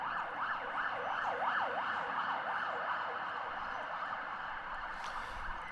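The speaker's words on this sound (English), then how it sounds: "An emergency services vehicle going by, an ambulance" Ambulance siren wailing in a steady rising and falling cycle as it passes by outdoors at a croquet and gateball ground, moderately loud over low background rumble, then fading.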